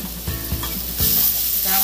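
Ground pork frying in a pan with garlic and onion, a steady close sizzle with several soft stirring knocks, swelling louder toward the end.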